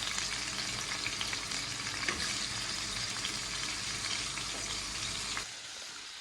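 Chicken frying in a pan for an Algerian-style home recipe, a steady dense sizzle and crackle filling the whole stretch, with faint stirring, then dropping off slightly near the end.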